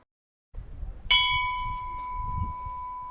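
A single temple bell strikes once and rings out with a long, clear sustained tone over a faint low rumble of quiet night air, the mountain temple otherwise still and deserted.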